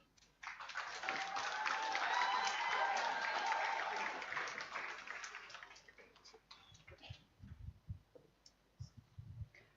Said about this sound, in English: another round of applause for our valedictorian